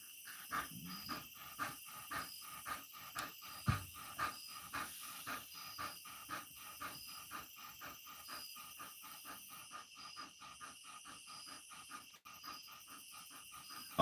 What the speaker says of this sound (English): I don't know if y'all can hear the dog panting.